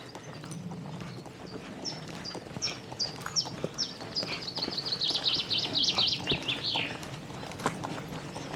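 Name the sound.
birds singing outdoors at a nature reserve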